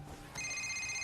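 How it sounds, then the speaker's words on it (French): A telephone starts ringing after a brief moment: a steady, sustained electronic ring tone, fairly close and clear, with no talk over it. "Laissez ce téléphone tranquille."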